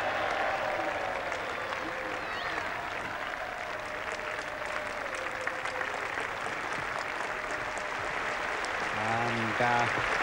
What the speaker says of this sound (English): big applause for the 50 partnership